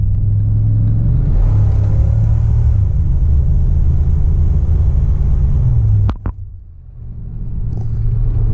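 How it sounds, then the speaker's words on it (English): Old one-owner Chevy 4x4 pickup, a farm barn find on worn tires, pulls along an open road with a loud, close cabin rumble and rising engine drone, then a brief shift dip before the steady drone returns. "We're on the open road, and we'll give it a little gas."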